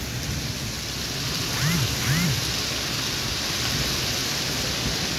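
Steady rain and gusty storm wind roar as a broad, constant wash during a sudden Kalbaisakhi storm in Sylhet, with a couple of brief faint tonal sounds partway through.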